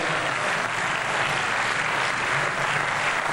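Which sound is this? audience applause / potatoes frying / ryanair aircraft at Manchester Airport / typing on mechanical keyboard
audience applause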